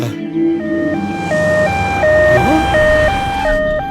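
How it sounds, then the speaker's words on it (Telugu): A loud ambulance siren alternating steadily between two pitches, close and continuous, with a voice briefly heard over it. "అంబులెన్స్ అనగానే అలా వచ్చేసింది."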